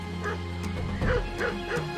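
Hunting dogs bark and yip in quick bursts, a handful of sharp, fairly close calls with whimpering tones between them over a low background rumble.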